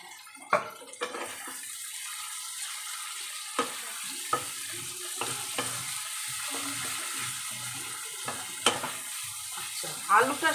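Spice masala for aloo dum fries in a pan with a steady, fairly quiet high sizzle, broken every few seconds by brief scraping strokes of stirring, close by with no talking.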